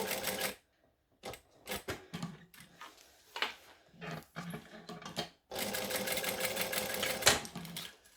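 A sewing machine runs in several short stitching bursts, sewing a zigzag crisscross pattern on a bag strap, then settles into one longer steady run near the end; close and clear, with no talk.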